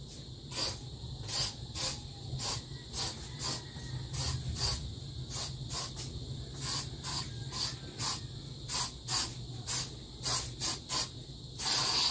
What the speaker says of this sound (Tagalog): Mag-spray muna tayo.